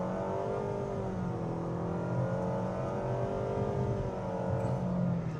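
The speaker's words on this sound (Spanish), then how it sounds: "En cuanto a aceleración, a fondo, en modo Sport," Nissan Kicks 2025 at full throttle in Sport mode, its engine note rising steadily in pitch as it accelerates, a continuous loud drone heard from inside the cabin with no talking.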